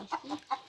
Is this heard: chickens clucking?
yes